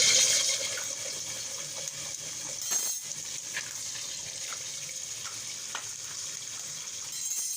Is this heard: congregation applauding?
no